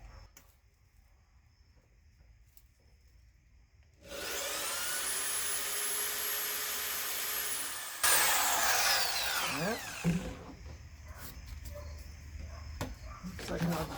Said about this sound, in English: I'll drill and drill out all those rivets